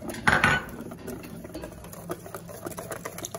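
Butter is being whisked into egg yolk for hollandaise sauce to go with sea bass fillet. A loud clink of metal against a bowl comes first, followed by quick, rhythmic whisk scraping and tapping.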